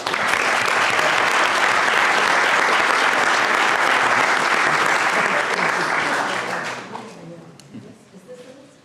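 A school board meeting audience gives loud, sustained applause for a student honoured as an All-State lacrosse player; dense clapping holds steady, then tapers off into scattered claps and quiet.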